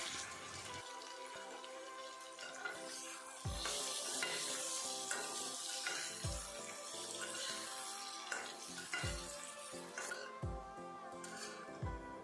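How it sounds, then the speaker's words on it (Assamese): Potatoes fry in oil with a steady sizzle filling the clip, with periodic scraping and stirring knocks against the pan, loud and close, no voices. "সেই তেলখিনিতে মই আলুখিনি এয়া ফ্ৰাই কৰি লৈছোঁ"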